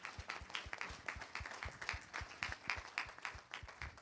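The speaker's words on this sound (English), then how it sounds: "So give yourselves a round of applause." An audience at a rally claps steadily, with many individual hand claps in a loose, continuous patter that sounds somewhat distant and subdued and never swells to a roar.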